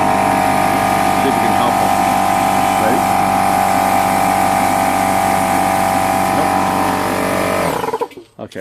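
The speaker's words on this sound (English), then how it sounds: "Let's turn the air compressor back." An air compressor runs loud and steady with a constant mechanical hum and whine, close by, while someone speaks briefly over it before it cuts off abruptly near the end.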